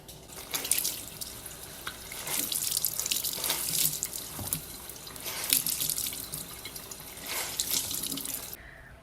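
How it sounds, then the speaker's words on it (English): Running tap water splashes steadily into a sink, with bursts of rushing and sloshing as fabric dyed with avocado pits is rinsed under the stream, no voices. "the next step is to rinse it out with water"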